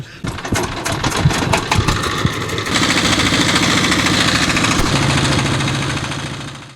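A boat engine runs on the Meghna river, a loud steady mechanical chugging that holds throughout, preceded by some irregular knocks and clatter in the first seconds before settling into a continuous drone.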